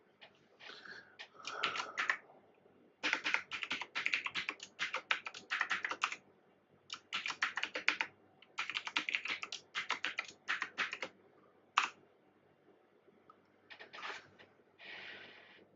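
Fingers tapping a password on a computer keyboard in bursts of quick, light clicks, close and fairly quiet, with short pauses between runs of keystrokes.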